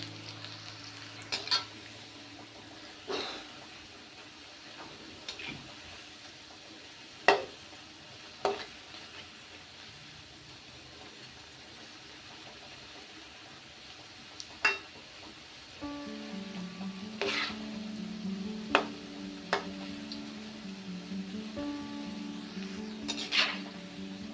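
Onion fritters (bajji) fry in hot oil with a steady soft sizzle, punctuated by sharp scraping and clinks of a utensil against the pan, and the bubbling grows busier toward the end.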